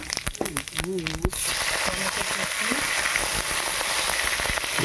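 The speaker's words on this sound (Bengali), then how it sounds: "এবার তেল গরম হয়ে যেতে জিরে ফোড়ন দিলাম" A voice speaks briefly before cumin seeds hit hot oil, and a loud, continuous close-up sizzle then crackles on without a break.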